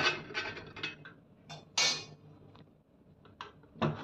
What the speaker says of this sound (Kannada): ಪ್ರೆಷರ್ ಹೋದ್ಮೇಲೆ ಕುಕ್ಕರ್ ಲಿಡ್ನ ನಿಧಾನಕ್ಕೆ ತೆಗಿರಿ